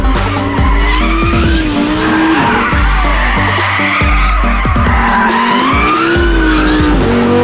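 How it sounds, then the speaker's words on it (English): A Lamborghini Huracán LP 580-2 drifts in sport mode with a drift function. Its tires squeal loudly and continuously while the engine roars and surges, close and intense for several seconds. "Sport mode has something interesting though, a drift mode that helps hold the car sideways."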